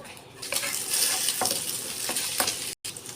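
Fried rice with egg sizzles and fries steadily in a pan, with a few scraping stirs and light clinks of a utensil against the metal, then a brief drop to silence near the end.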